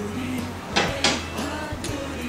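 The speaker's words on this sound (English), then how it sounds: "you just close the doors up" Metal doors of a wood-fired cooker in a kitchen swing shut, giving two close, sharp clanks about a quarter second apart over a low steady hum, followed by fainter knocks and rattles.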